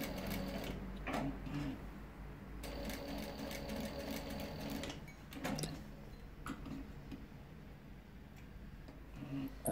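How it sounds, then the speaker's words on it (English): A sewing machine stitches down the folded edges of a fabric armband, running in a steady close mechanical whir with rapid ticking needle strokes, pausing briefly and starting again. "I folded over the two remaining edges and just sewed them down as well."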